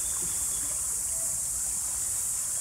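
Kedron Brook flows with a steady, even rush of water, a constant broadband hiss with no breaks and no voices.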